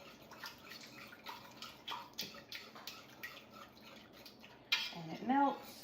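Metal utensil scraping and clinking against a pot while cheese sauce with milk is stirred, a steady run of short scrapes and taps, close and moderately loud, ending in a brief squeaky scrape.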